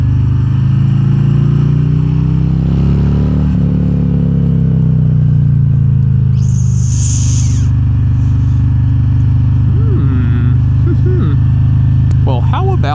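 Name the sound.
2022 Harley-Davidson Road Glide Special motorcycle riding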